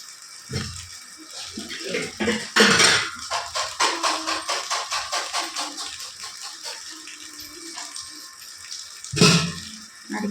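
Water runs from a tap into a container, a close splashing stream with rhythmic pulsing surges and rattling, interrupted by a couple of clunks, no voices.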